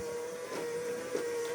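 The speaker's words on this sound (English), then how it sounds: "iRobot vacuum cleaner." An iRobot robot vacuum cleaner runs with a steady, close motor hum and whir that holds even throughout, alone with no talk.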